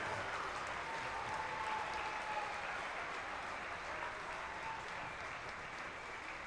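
An arena crowd at a college basketball game applauds the players in a sustained, even wash of clapping that stays steady throughout, fairly distant and faint, with faint voices mixed in.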